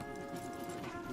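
Horse hooves clip-clopping at a steady walking pace in the Red Dead Redemption game, a continuous close rhythm of soft thuds over a faint bed of ambient outdoor noise.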